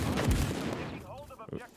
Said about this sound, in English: It's a good artillery strike.